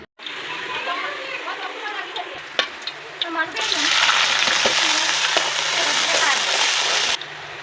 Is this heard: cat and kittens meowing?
no